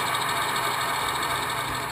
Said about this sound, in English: Oh, we're going to have an engine start now.